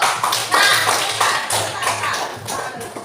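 Elementary school class clapping hands together in a classroom, a short burst of loose, uneven claps in rough waves, fairly close and loud, with a little shuffling.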